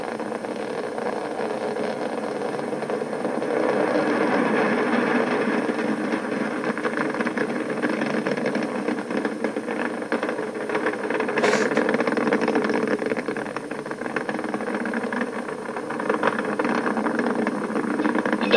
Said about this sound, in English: Endeavour's engines have now throttled down as the orbiter passes through the area of maximum dynamic pressure